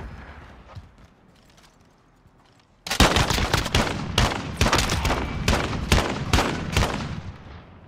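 Rapid bursts of video game gunfire kick in abruptly after a quiet stretch, loud and close, with sharp repeated shots and short gaps between volleys.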